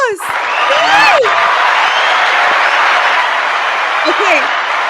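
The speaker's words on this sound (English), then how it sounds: "More round of applause, guys." Audience clapping and cheering at a live show, a steady burst of applause with whoops, a voice heard briefly over it.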